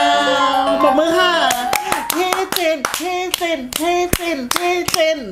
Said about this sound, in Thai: ปรบมือค่ะ